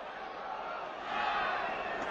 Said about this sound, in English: they have been cheering very loudly, standing up, almost rejoicing